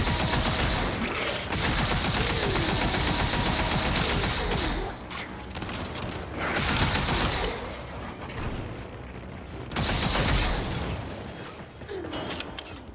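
Rapid automatic gunfire in the game Warframe pours out in long, dense, loud bursts with brief gaps and a mechanical rattle.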